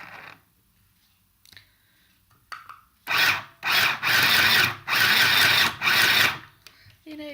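A sewing machine stitching fabric runs in four or five loud, steady bursts separated by short pauses, close by, after a few quiet handling clicks.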